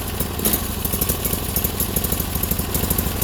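A Bolens Eliminator hydrostatic lawn tractor engine with 166 hours runs rough, a loud close idle with an uneven lumping pulse and rattling vibration, heard alone.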